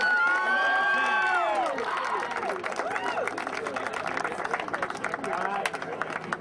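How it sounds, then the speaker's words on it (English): A large crowd cheers and claps continuously, with whoops and shouted voices rising over steady applause throughout, at a youth soccer state cup final. "And the big round of applause for Timmy Phoenix the King."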